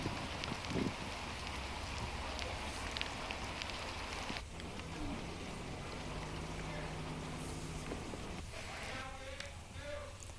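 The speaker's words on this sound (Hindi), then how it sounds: "कितनी देर से बारिश हो रही है?" Rain pours steadily over the open new grain market in Sonipat, Haryana, a dense, continuous hiss of drops on the surfaces, with people talking nearby and a few knocks partway through.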